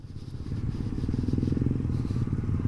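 A Honda CRF 150 dirt bike rides offroad, its engine droning steadily and close with a rough, pulsing low-end throb that builds slightly and holds throughout.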